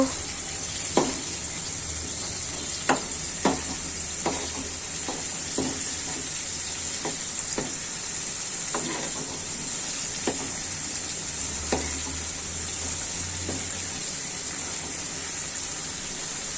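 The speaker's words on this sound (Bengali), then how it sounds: "দেখুন মাছগুলো এভাবে আমি কষিয়ে নিব" Rui fish frying in a pan, with a steady close sizzle running throughout and a string of sharp spatula scrapes and clacks as the pieces are stirred.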